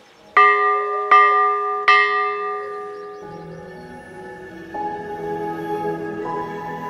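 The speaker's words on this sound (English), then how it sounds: "the bell certainly does still ring" The St Agatha church bell rings three times in close, loud strikes, each note leaving a long shimmering hum that lingers and slowly fades, with no voices present.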